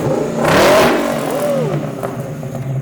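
A car with straight pipe exhaust revs up loudly nearby, the engine note climbing and falling in two quick pulls before settling into a rough, rumbling idle.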